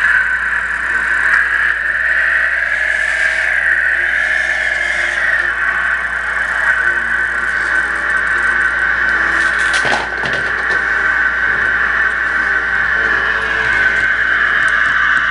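A Delta Loader vehicle's engine started and left running: a loud, steady mechanical drone with a constant whine and no breaks throughout.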